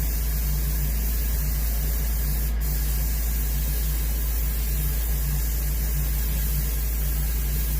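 A spray can hisses steadily and close as a light flash coat of paint goes onto a muskie fish mount, with one short sharper burst midway.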